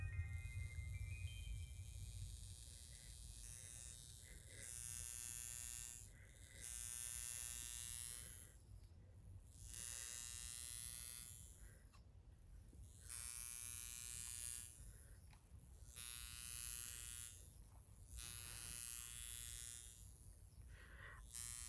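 A faint electrical buzz from a high frequency facial machine that swells and drops in repeated bursts, a thin high whine running through it, with short quiet gaps between pulses.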